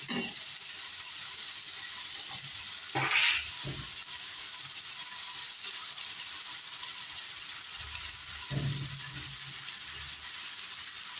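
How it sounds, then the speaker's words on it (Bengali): Pangas fish frying in a pan makes a continuous crackling sizzle, close and steady, broken by a few short utensil scrapes and knocks, with no one speaking. "আর এদিকে আমি পাঙাশ মাছগুলো ভেজে নিচ্ছি"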